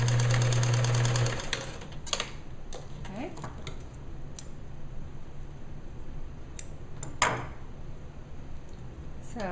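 A sewing machine stitches the fabric of a small girl's bereavement gown, running with a steady mechanical hum at the start before stopping, followed by scattered clicks and fabric handling under a voice.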